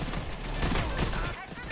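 Rapid video game gunfire in a court-themed shooter, a dense continuous fusillade of close, loud shots filling the whole moment, with a brief dip near the end.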